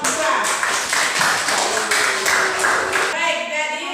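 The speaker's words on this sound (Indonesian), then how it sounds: "Tepuk tangan untuk kelompok 2" Classroom applause for a student presentation group, a steady patter of many hands clapping at moderate loudness, with faint voices mixed in.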